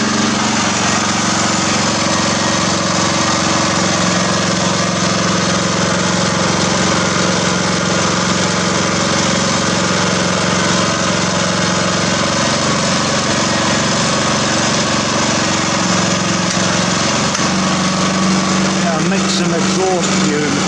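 A small engine running on gasifier fuel of exhaust fumes, water and charcoal runs steadily and loudly throughout, a continuous buzzing drone with slight changes near the end.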